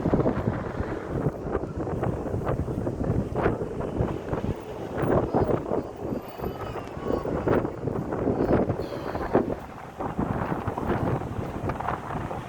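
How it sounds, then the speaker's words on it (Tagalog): Strong, steady wind in Abu Dhabi roars and buffets the microphone throughout, with gusty rumbling surges and no clear voices. "Yan, gaano kalakas ang hangin."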